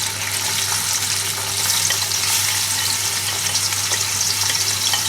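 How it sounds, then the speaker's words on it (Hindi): Onions dropped into hot oil in a pot for a rice dish hiss with a loud, steady sizzle that holds through the whole stretch, broadband and close, with no voices over it. "यहाँ पर मैंने देचकी में तेल ऑलरेडी डाल लिया हुआ है और तेल भी गर्म हो चुका है। पहले हम इसमें अपने अनियन ऐड करते हैं।"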